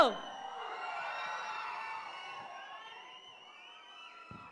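An audience at an outdoor folk music stage event gives a burst of cheering and applause that starts loud and slowly fades, with a few whoops over the tail.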